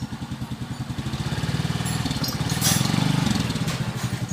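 A Suzuki Shooter 115fi motorcycle engine runs after a rebore, a steady close idle with a fast even pulsing beat that swells slightly in the middle, alone without talk.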